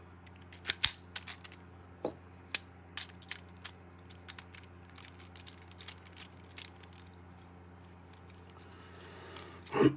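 Screws being backed out of a Paclock 90A-Pro padlock during disassembly, heard as scattered small metallic clicks and ticks against a low steady hum, close up, with a louder clatter near the end.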